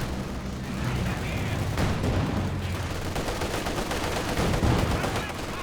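Dense, continuous rifle and machine-gun fire from a Company of Heroes 2 battle, with a heavier burst like a grenade blast near the end, all under a caster's commentary.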